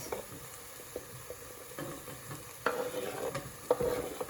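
Potatoes being added and stirred into a pot with ground beef, giving a low frying sizzle with scattered scraping stir strokes that grow louder in the second half, close by and without talk.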